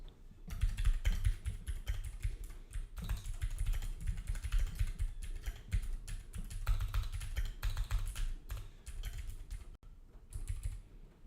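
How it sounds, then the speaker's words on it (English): Rapid typing on a computer keyboard, with dense irregular clacks in quick bursts and brief pauses, close and fairly quiet, with no talking. "Then I can type something else."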